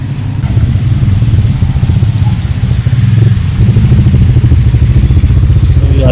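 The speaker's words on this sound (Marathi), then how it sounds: "येते आपली बाईक वरती" A Bajaj Dominar 400 motorcycle pulls up to a tyre shop after rain, its engine thumping loud and close in a steady rumble that rises slightly as it rolls in.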